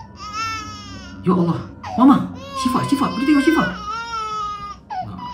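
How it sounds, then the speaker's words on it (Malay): A small child crying with rising, wailing sobs, close and loud, staged as a horror-story sound effect in a house; a voice speaks anxiously over and between the cries. "Lepas tu dengar tangisan budak kecil"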